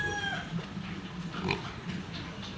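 Farm pigs, one month old, grunt and oink faintly in a pen, soft snuffling sounds scattered over a few seconds with low background noise.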